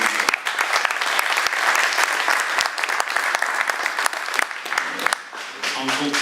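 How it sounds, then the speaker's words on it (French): At a winter general assembly of the Var district in Garéoult, a hall audience breaks into sustained, dense applause that stays loud and steady throughout, thinning slightly near the end. "On peut l'applaudir."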